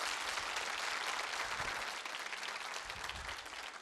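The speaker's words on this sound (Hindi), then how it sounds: "तालियां आपके लिए बजाइए" Studio audience at a Holi quiz show gives a faint, steady round of applause, many hands clapping together from a distance for a few seconds with no talk over it.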